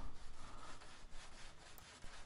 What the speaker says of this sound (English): So just sanding those edges so no one gets hurt.